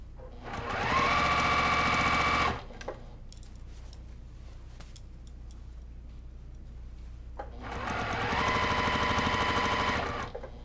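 Two bursts of a sewing machine stitching a quilt-as-you-go stocking, each a loud, steady whirring hum lasting about two seconds, separated by a quieter pause with light handling clicks.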